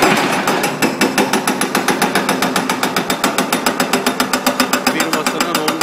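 A CMB 15G hydraulic breaker mounted on a Hyundai W200 LC-7 wheeled excavator hammers at a foundation construction site in Sarıyer, a loud, fast, steady metallic pounding with an even rhythm of impacts throughout.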